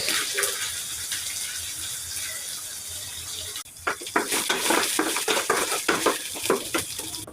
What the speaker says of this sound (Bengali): প্রথম তেল দিচ্ছি, কাঁচামরিচ, তারপরে রসুন।